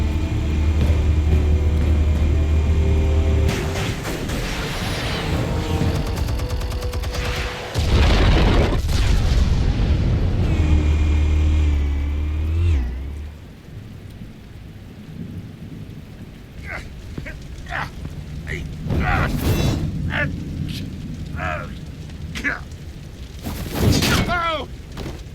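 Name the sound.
explosives detonating in Batman Telltale video game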